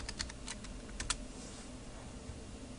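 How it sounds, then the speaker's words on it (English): Quick bursts of keystrokes on a computer keyboard as a search term is typed, a short cluster of clicks near the start and then quiet room tone, close and fairly soft. "if I was to type in something we didn't put in there"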